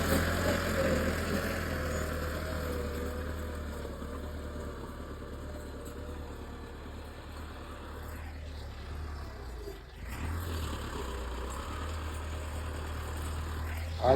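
A tractor pulls a plough through a wheat field in Punjab, its engine droning steadily and loudly throughout with a brief dip in the middle before the rumble resumes.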